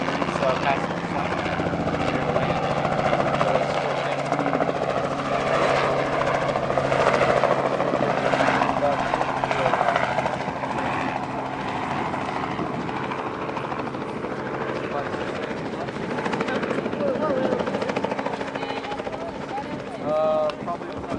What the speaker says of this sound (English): Here for the helicopter ride?